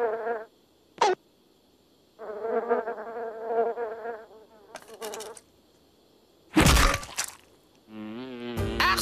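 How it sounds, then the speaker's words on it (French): Flies buzz around a prisoner's festering wounds in a cramped, sweltering shed, their whining drones rising and falling in separate bursts close by, broken by sharp cracks. "Harcelé par les mouches qui s'agglutinent sur mes plaies purulentes"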